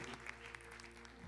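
A church congregation applauding during a service, a steady, quiet patter of many hands clapping together, even and continuous over a low hum.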